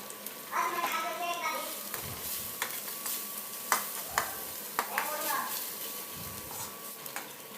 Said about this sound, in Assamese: এইখিনি ভালদৰে ভজা হৈ গৈছে